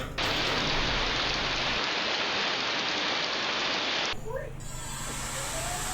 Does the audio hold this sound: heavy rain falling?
yes